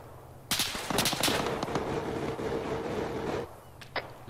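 Gunfire rings out in the military shooter Arma 3: a sharp volley of close shots, then a sustained rattle of automatic fire under a vehicle's drone, ending with a couple of isolated distant cracks.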